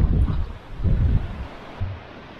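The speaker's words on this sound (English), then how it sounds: "Look at those waves." Low rumbling surges of ocean waves on Molokai, Hawaii, mixed with gusty wind buffeting the microphone, rising and falling in two or three swells.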